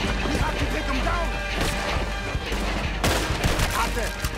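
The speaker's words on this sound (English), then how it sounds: "He's shooting! We have to take him down!" A man fires from a tower in Red Dead Redemption 2, and the gunfire comes as a dense, loud volley of overlapping shots and cracks that runs without a break, with a heavier burst near the end and faint voices under it.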